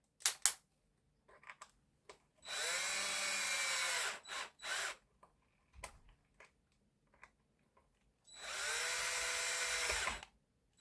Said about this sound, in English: I'm gonna use the drill.